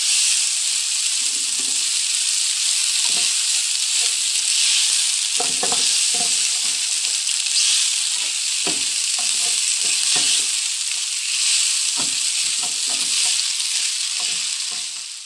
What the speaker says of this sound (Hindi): जल्दी जल्दी चम्मच को हिलाना है, नहीं तो मैक्रोनी हमारी फ्राई पैन के साथ चिपकना शुरू हो जाएगी।